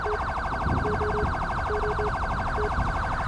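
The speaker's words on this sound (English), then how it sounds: "this dude's siren is going to be on 24/7 here" Police car siren in GTA 5 wailing continuously in a fast, rapid warble, loud and steady throughout, with a faint beeping tone recurring in the background.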